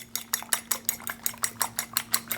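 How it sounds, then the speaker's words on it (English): Eggs whisked briskly in a bowl, a rapid, regular run of about a dozen close metallic clicks and scrapes of the whisk against the bowl, with a faint steady hum beneath. "I'm going to just whisk these really quickly"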